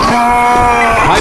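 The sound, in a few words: Charger zombie growl in the video game Left 4 Dead 2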